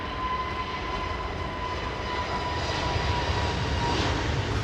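An airliner's number 2 engine spools up at Heathrow Airport, a steady, loud jet roar with a thin whine held throughout and no talk.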